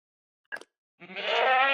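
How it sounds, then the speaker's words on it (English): A Minecraft goat makes a short click-like sound, then after a pause lets out a loud, wavering bleat that swells and holds, close and alone. "goat sounds"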